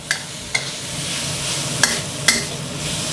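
Holy basil and minced pork stir-fried in a pan for Thai pad kaphrao, a steady soft sizzle with a few sharp clacks of the spatula against the pan, close and alone.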